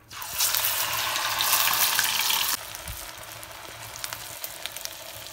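Urad dal vada batter frying in hot oil gives a loud, bubbling sizzle close by that drops to a quieter, steady crackle partway through, with faint clinks and no talking.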